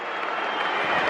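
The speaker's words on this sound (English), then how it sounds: "Arsenal fans are booing." Arsenal fans in a football stadium give a sustained, dense crowd roar of booing that swells slightly toward the end, heard from within the stands.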